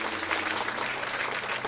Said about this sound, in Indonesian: Tepuk tangan buat ketaatan hamba-hamba Tuhan.